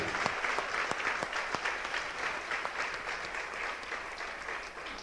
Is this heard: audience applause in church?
yes